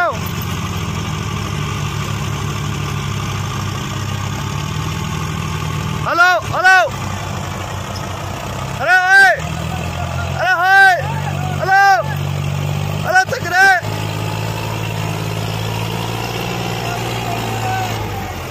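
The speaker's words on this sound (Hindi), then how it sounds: "फुल लोडिंग ट्रॉली में है अर्जुन महिंद्रा, फुल पावर लगा रहा है।" A Mahindra Arjun 555 tractor pulling a fully loaded trolley runs at full power with a steady low engine rumble, interrupted by a few loud, close bursts of another sound.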